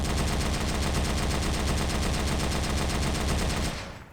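A Type 92 heavy machine gun, 13.2 mm, fires in Men of War: Assault Squad 2 as one loud, dense, unbroken burst of rapid rounds lasting nearly four seconds before cutting off into a short fading tail.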